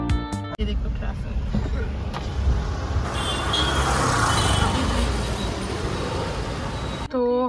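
Road traffic in Goa, India, a steady roar of passing cars and heavier vehicles close by, with horn-like tones at the start and end and occasional voices underneath.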